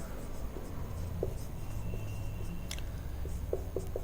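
Faint, sparse pen or marker strokes during a maths lesson, short scratchy taps scattered over a steady background hiss.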